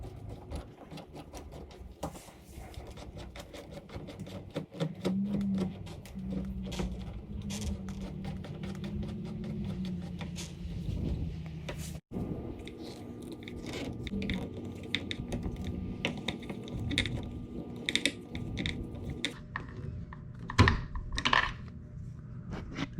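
A T25 Torx screw being unthreaded to free a gear mechanism in a BMW 5 Series wagon gives close, steady small metallic clicks and scrapes with a few sharper ticks, and no talk.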